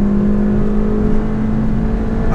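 A 2019 Suzuki Swift Sport's engine revs loud and close, a sustained buzzing hum holding steady pitch for a couple of seconds with no talk.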